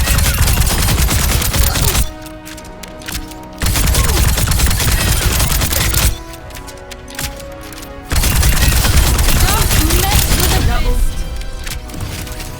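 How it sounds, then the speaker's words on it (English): Rapid bursts of crossbow bolt fire in Overwatch 2 come as loud, dense clusters of sharp shots separated by brief quieter pauses, with game effects and a voice present. "she has 12 bolts in her regular fire here"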